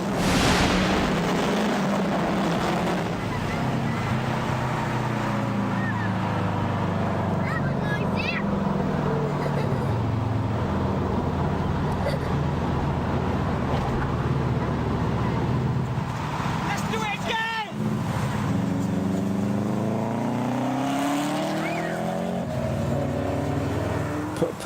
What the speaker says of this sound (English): a clip from the Max Power magazine website of cars racing through a tunnel in the UK